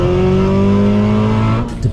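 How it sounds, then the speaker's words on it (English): Big-turbo Subaru STI engine on a drive around town at low to medium boost, a loud steady drone with strong harmonic tones that holds throughout and drops off sharply near the end. "I just wanted to take the STI out for a nice quick drive around town and get the juices flowing"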